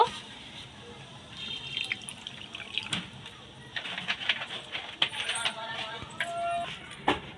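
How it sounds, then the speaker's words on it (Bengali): Water poured in small amounts into spinach dal cooking in a pot, making soft splashes and drips with faint kitchen clatter and an indistinct voice in the background. "আমি একটু জল দিচ্ছি অল্প একটু জল দিয়ে নেব"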